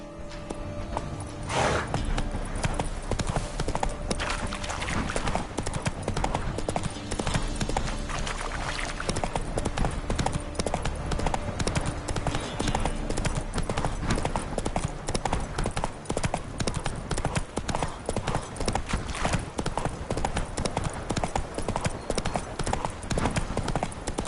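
Geralt's horse Roach trots in The Witcher 3 on PS5, loud even hoofbeats repeating in a steady rhythm under a dense wash of game music and ambience.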